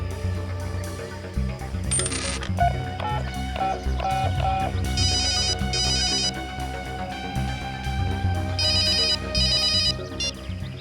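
A telephone ringtone plays loudly after a number is dialed, a repeating electronic melody with bright trilling bursts over background music in a crime drama scene.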